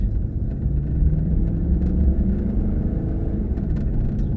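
Car driving along a road, a steady low rumble of engine and tyre noise heard from inside, continuous and fairly loud with no talking.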